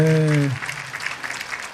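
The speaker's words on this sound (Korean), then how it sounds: "격려의 박수 또 한번 할까요?" A church congregation claps during a Friday night worship service, the applause brief and spread across the room after a voice speaks over the start.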